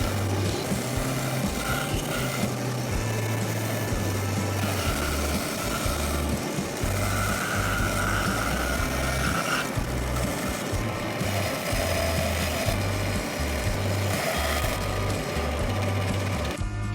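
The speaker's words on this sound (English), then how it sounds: "And then I take it to the bandsaw to cut out the shape." A bandsaw hums continuously while it cuts wood, its motor drone steady and close with a rough grinding texture throughout.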